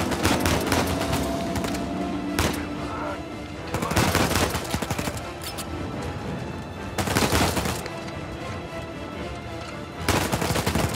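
Rapid automatic gunfire in Uncharted 4 during a firefight from a rocking boat, loud sustained bursts of several seconds separated by shorter gaps of quieter rattling shots.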